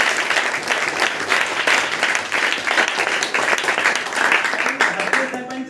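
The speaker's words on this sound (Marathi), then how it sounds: "आपण सगळ्यांनी त्यांच्यासाठी जोरदार टाळ्या वाजवण्यासाठी" An audience at an educational help event in Thane claps in a sustained, dense burst of applause that breaks off near the end as steady tones come in.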